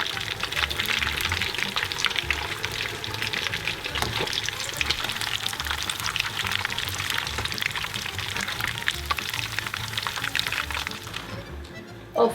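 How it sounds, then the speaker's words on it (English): Deep-frying in a pot of hot oil at a fish-and-chips cook-up, where batches are fried golden brown; a dense, continuous bubbling hiss holds steady and close throughout, with no talk. "I'll fry the fish in the same oil, the calamari ring"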